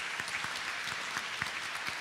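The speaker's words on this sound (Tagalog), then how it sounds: "Mas maraming himala, mas malakas na palakpakan para sa Diyos." Church congregation at a Filipino worship service breaking into sustained applause, a thick continuous patter of many hands with a few sharper claps standing out, close and full, with no speech.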